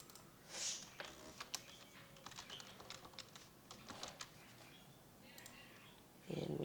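Quiet typing on a computer keyboard, with irregular soft key clicks in short bursts and scattered pauses, close and faint.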